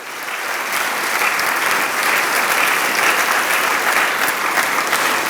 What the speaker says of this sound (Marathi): आपण जोरदार टाळ्या वाजूया येशू ख्रिस्ताच्या नावासाठी